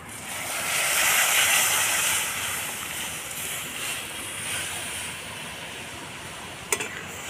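Kalai dal lentils are tipped into a hot pan of softened tomato for a bottle gourd dal. A broad, steady hissing sizzle swells at first, then settles to an even fry with one brief clink.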